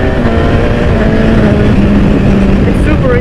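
A BMW S1000RR engine roars loudly and close with the throttle held open, its pitch climbing and then stepping through a quick-shifter upshift without a break in power. A rider talks over the noise.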